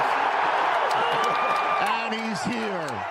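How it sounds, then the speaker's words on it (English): A stadium crowd at a football draft pick announcement cheers and whoops steadily, with overlapping voices and applause throughout. "Listen to this crowd."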